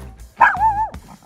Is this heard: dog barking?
yes